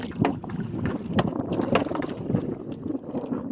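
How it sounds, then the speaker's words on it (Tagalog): Gusty wind buffets the microphone with steady low rumbling and bursts, with faint splashing water in the background. "Lakas kasi hangin guys."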